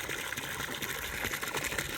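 Water runs steadily into a horse's water trough outdoors, a continuous close gushing hiss with a slight rhythmic churn, holding an even level throughout and no voices.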